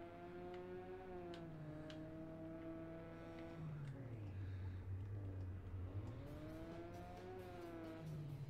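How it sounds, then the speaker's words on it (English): A racing car in the video game Project Acceleracer hums with a smooth tonal engine note, dipping as it shifts down and then climbing again as it revs back up, moderately quiet and steady. "Oh, I do really like the sound of this car."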